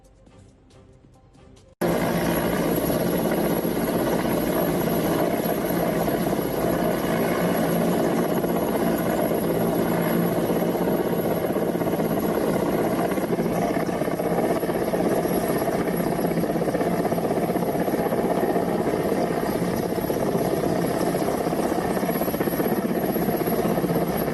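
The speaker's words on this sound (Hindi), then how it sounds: "ऊपर एयरफोर्स का हेलीकॉप्टर MI-17" An Air Force Mi-17 helicopter flies overhead above fast floodwater during heavy rains and waterlogging in Surat, Gujarat, its loud, steady rotor and turbine drone running continuously after a brief quieter start.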